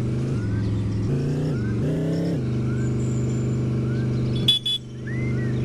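Go-kart engine in the game Dude Theft Wars, a steady buzzing drone that rises and dips as the throttle changes, with a brief honk-like blip near the end before the motor settles back.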